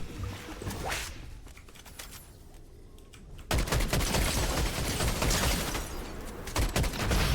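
Bursts of gunfire in the Fortnite video game, dense rapid shots that drop to quieter scattered fire midway, then return loud and sustained.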